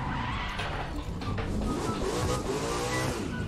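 A drag race car in the racing game The Crew 2 roars at high revs with engine whine and brief tire noise, loud and continuous for a few seconds with no talking.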